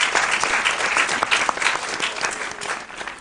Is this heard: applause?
yes